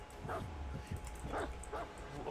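A dog in the video game Warhammer 40,000: Darktide gives several short, soft barks and yips at an irregular pace over a steady background hum.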